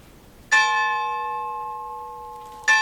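A church bell is struck once, clear and resonant, its tone slowly decaying over about two seconds before a second strike lands at the end, with no talk over it.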